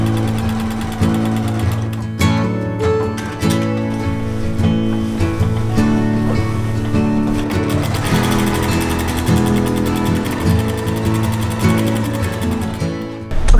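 A regular home sewing machine runs steadily while machine quilting a quilt, stitching in long continuous passes with a close, buzzing mechanical hum and rapid needle rhythm, loud and without speech.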